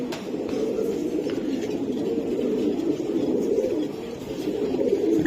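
Racing pigeon cooing close by in a steady, continuous low murmur lasting several seconds, with faint background noise and no voices.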